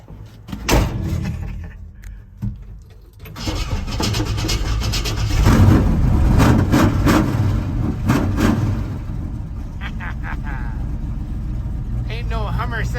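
Rumbling 502 big block V8 in a 1970 GMC truck, a few door thumps and knocks first, then a loud, throaty engine swelling up and settling into a steady idle, with someone talking over it.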